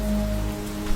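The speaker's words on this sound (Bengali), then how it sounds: "দুদিন ধরে অনবরত বৃষ্টি হয়ে চলেছে।" Steady cartoon-style rain falling on a surface, a continuous moderately loud patter with a low drone underneath, alone and brief.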